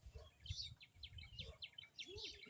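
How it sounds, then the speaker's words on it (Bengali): Birds in a village countryside chirp and tweet in quick, repeated bursts, faint and somewhat distant over a quiet rural background. "সুন্দর পাখির গান শুনতে পাওয়া যায়।"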